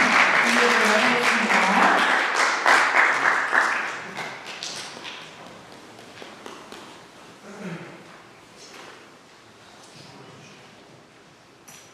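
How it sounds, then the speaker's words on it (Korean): Audience applause at a science and culture forum lecture in Yanggu, a dense, loud burst of clapping that fades over several seconds into quieter room noise, with a speaker's voice heard briefly. "여러분 큰 박수, 박수 드리도록"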